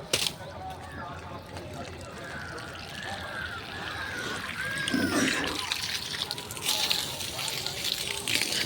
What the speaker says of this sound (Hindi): देखिए पानी